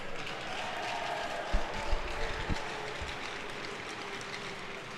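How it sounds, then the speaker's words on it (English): Steady, distant applause from a crowd in an ice hockey arena during a university playoff game, a diffuse wash of clapping with a few louder thumps partway through. "Please give a nice round of applause for number 3, Michael Guerrera"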